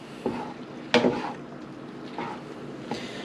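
Noodles with eggs being stirred in a pot, giving a few separate scraping and clinking knocks of a utensil against the pot, fairly close and moderately loud, with no voices.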